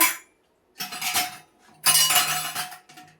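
A plate handled and set down during preparations for a Shiva puja, giving two clusters of bright metallic clinks and rattles separated by short silences, close and fairly loud, no voices.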